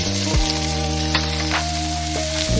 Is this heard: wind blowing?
no